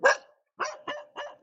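A dog barks four times at a rural homestead in Zimbabwe: one sharp bark, a short pause, then three quicker barks in a row, moderately close and alone without speech.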